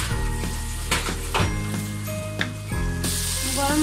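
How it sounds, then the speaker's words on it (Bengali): Turmeric and spice masala frying in hot oil in a pan for Bengali maskolai dal, a steady close sizzle broken by several scraping stir strokes of a spatula, with no talking. "মশলাটাকে ভালোভাবে কষিয়ে নিচ্ছি"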